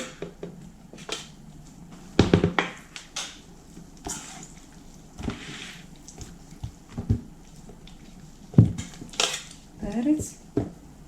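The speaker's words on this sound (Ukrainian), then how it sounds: "Тепер беру велику миску і буду все разом змішувати" Fried eggplant and peppers piled into a large bowl for mixing, with scattered clanks and clatters of utensils against the bowl and soft handling thuds between them.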